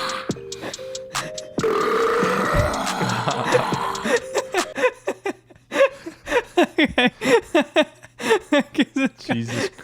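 A long, gurgling burp followed by a string of short rhythmic croaks and gulps, loud and close, as one man burps amid casual chatter and laughter.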